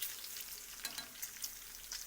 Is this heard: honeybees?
no